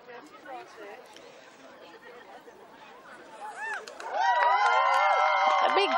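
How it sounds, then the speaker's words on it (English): At a best-puppy final of a dog show, between an Afghan and a bearded collie, crowd chatter swells into loud cheering and shouting that keeps rising to the end. "A big cheer"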